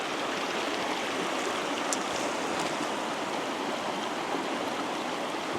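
A river flows steadily during a day of fishing, a continuous close rush of moving water holding an even level throughout with no voices.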